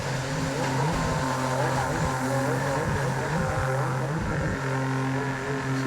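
A drone flies over the Pitt River in British Columbia, giving off a loud, continuous motor buzz whose pitch rises and dips slightly throughout, with no voices.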